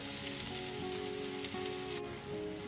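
A medium onion frying in a little oil in a pan, a steady close hiss and sizzle with faint crackles throughout, no voices.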